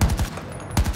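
Gunfire in the video game Battlefield 2042, a rapid burst of several loud, punchy shots in quick succession, a pause, then more shots.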